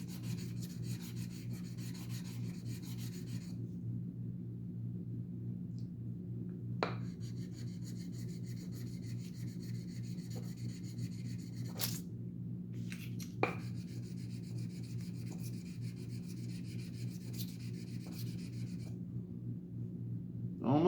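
Sandpaper in a low grit rubs against a titanium knife scale from a Demko AD20.5. It makes a faint, steady scratchy rasp that comes and goes in stretches over a low hum, with a few small clicks and no speech.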